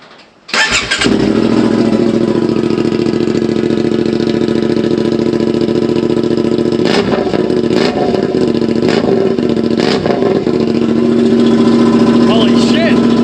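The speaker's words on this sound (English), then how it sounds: "I'm so tempted to start this with no muffler. Should I do it? I'm gonna do it. Let's have a listen." A CFMoto 450 motorcycle engine with no muffler fires up and runs loud and close, a harsh, raw drone with several sharp revs blipping above the steady idle throughout.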